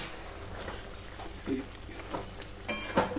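Chicken biriyani masala sautéing in a covered pan, a soft low sizzle with occasional clinks and stirring bumps, quiet and close, under faint background noise.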